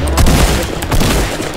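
Rapid bursts of gunfire in the video game Fortnite, dense overlapping shots from an in-game firefight lasting the whole moment, loud and close with no talking.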